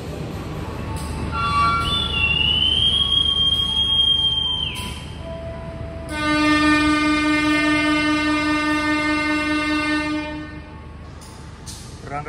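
KA Progo economy train departing Lempuyangan station in Yogyakarta, with a long tonal horn followed by a second sustained horn blast over low rolling rumble, loud and nearby.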